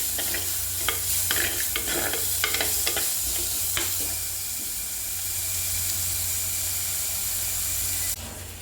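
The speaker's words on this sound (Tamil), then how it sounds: "அதுக்கு பிறகு நம்ம இந்த ஜாக் ஃப்ரூட் சீடு கீரையும் போட்டு நல்லா வதக்கணும்." Onions sauté in a hot pan with jackfruit seeds and greens, a continuous close sizzle and hiss, with scraping stir clatters in the first few seconds.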